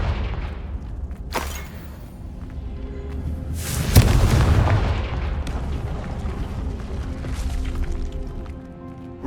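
In Hogwarts Legacy, Confringo blast spells explode, several sharp booms, the loudest near the middle, each with a rumbling tail over a busy game background.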